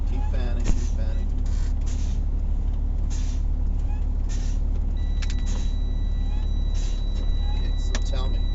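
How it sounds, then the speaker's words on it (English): Truck air brakes being fanned to bleed pressure below 80 psi during a build-up rate check, heard as steady broadband air hiss and engine rumble, with short bursts of released air and a faint tonal beep near the end. "I fan both brakes to see if they're below 80 psi"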